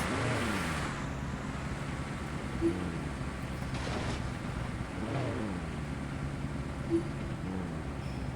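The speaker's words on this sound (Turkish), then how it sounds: "arabanın motorundan ses çıkıyor" A car engine in a driving simulator video game drones steadily, its pitch rising and falling in slow sweeps, with a couple of faint clicks over the hum.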